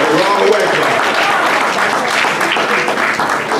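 Loud, sustained applause from a crowd at a mosque-hosted unity banquet, a thick continuous roar of clapping with crowd noise mixed in, steady throughout and close.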